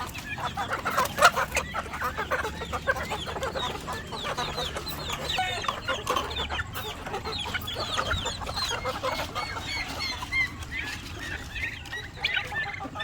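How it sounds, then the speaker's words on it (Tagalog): A crowd of chickens, including White Leghorns, clucks and chatters continuously at close range while being fed, with busy pecking and scratching noises and an occasional louder squawk. "papakain muna tayo mga ka-farmers ng ating mga alagang manok"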